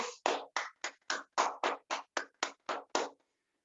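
Twelve sharp, evenly spaced claps ring out in a steady rhythm, each crisp and close, ending abruptly in silence.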